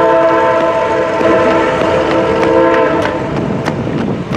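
A train rumbles past close by in Brunswick, Maryland, its horn sounding in long steady tones over the continuous roar of the wheels on the rails.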